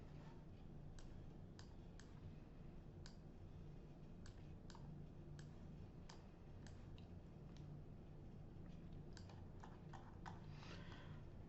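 Scattered keystrokes tap on a computer keyboard in short irregular bursts of light clicks, quiet and close, with no talking.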